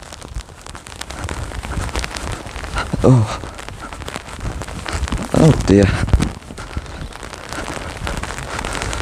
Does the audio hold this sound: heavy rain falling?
yes